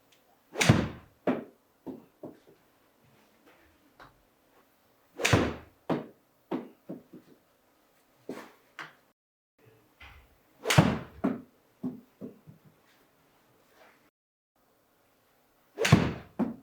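Golf irons strike balls on a practice range: several crisp, sharp impacts spaced a few seconds apart, each followed by a few lighter clicks and knocks, with quiet between.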